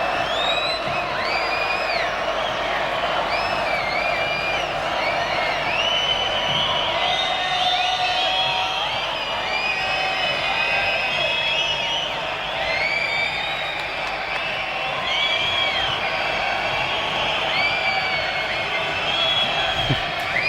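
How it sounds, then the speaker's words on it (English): Big concert crowd at a 1977 show in Munich cheers, whoops and whistles continuously in a steady roar of voices. "I'm honestly okay with listening to the crowd sounds."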